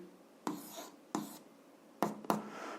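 Pen strokes on paper while algebra is written by hand, heard as four short scratchy bursts with quiet pauses between them, fairly close and soft.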